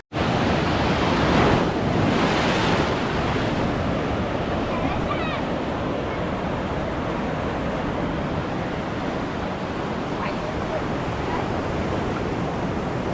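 Sea waves break on the shore where people wade in to gather mussels: a loud, continuous close roar of surf with heavy wind buffeting the microphone.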